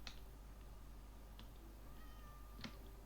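A Minecraft cat, in a foggy horror-modded world, gives a couple of faint meows against a quiet, hissy game background.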